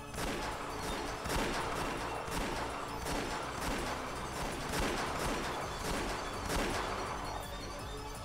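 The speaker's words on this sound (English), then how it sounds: "As soon as I heard the sound of repeated gunfire" Repeated gunfire in the Umineko visual novel, a sustained volley of sharp shots and crashes recurring every second or so across the whole stretch, dense and loud.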